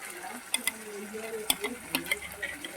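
Onion, tomato and ginger garlic paste frying in a pan for a pomfret fish dish, a quiet continuous sizzle broken by repeated light clinks and scrapes of a spoon stirring, close by.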